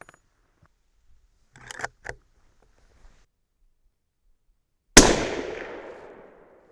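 A single loud 300 Win Mag rifle shot cracks out near the end, sharp and close, with a long decaying boom that rings out after a few faint handling clicks and knocks.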